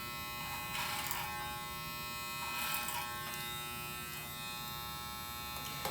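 Electric hair clippers buzz while cutting hair over a comb, a faint steady hum with a few brief bursts of brighter cutting noise as the blades pass through the hair.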